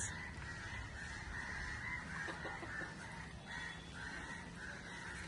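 Country chickens on a poultry farm call faintly in the distance, a few honking, clucking notes over a steady noisy background.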